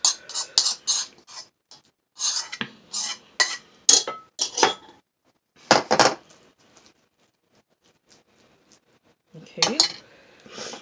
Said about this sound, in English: now we're going to put it in a bowl, in a pretty bowl